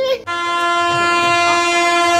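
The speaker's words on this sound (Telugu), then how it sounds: "అరే చింటూ భాయ్ ట్రైన్ వచ్చినట్టున్నది." A train pulls into Chandigarh station with a loud, sustained horn blast right up close, drowning out the platform bustle after a brief burst of noise.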